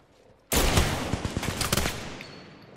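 Shotgun fire in the video game Apex Legends: a sudden loud blast opens a burst of rapid, booming shots that slowly decays.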